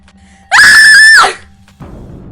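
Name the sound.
woman screaming loudly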